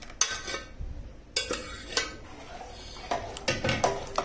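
A spoon stirs custard into a soft paneer-like mixture in a metal pot, with scattered close clinks and scrapes against the pot between quieter stretches of soft mixing.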